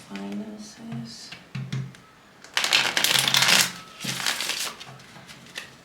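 A deck of cards is shuffled several times in short bursts of riffling and flicking, close and crisp, with brief pauses between bursts and a soft voice murmuring at the start.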